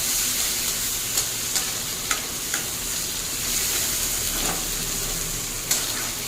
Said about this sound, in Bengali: একটা ছোটো সাইজের টমেটোকে ফালি ফালি করে কেটে এতেই ভাজতে হবে।